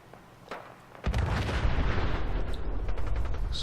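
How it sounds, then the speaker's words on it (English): Explosions and gunfire in the video game Fallout 4: a quiet pop and a sharp onset, then a dense, continuous roar of booming blasts and rattling shots at steady loudness. "Explosions."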